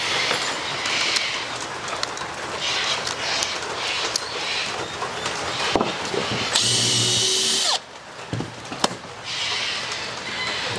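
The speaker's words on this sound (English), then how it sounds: "Take the drill." A power drill drives a screw into wood for a mud kitchen build, with irregular bursts and knocks of work, then one sustained loud whirring run of about a second before it stops.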